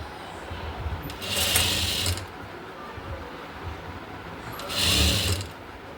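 A sewing machine runs in two short bursts of rapid mechanical chatter while stitching the sleeve of a V-neck nightdress, separated by quieter clicks and handling sounds in a small room.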